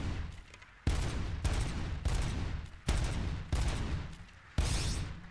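Gunfire in Robocop: Rogue City, a series of heavy, evenly spaced single shots, each a sharp loud blast with a ringing tail, about eight in a row.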